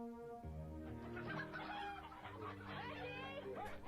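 Backyard chickens clucking and squawking at breakfast feeding time, several birds calling in short irregular bursts over a tonal background of music.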